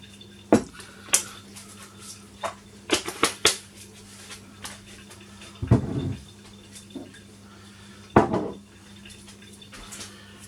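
Nut-free granola ingredients going into a bowl: scattered dull knocks and taps, a few louder rustling pours and clatters, spaced irregularly against a quiet kitchen background with no talking.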